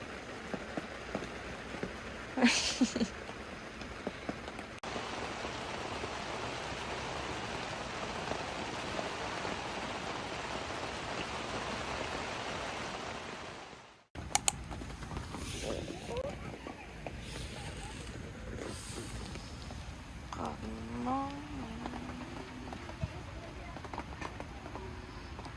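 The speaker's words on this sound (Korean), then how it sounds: "아직도 비가 오네." Steady rain falls outside a campsite tent beside a sedan car camping setup in a forest by a reservoir, a continuous soft hiss with a brief break midway, faint taps and a few voices speaking quietly under it.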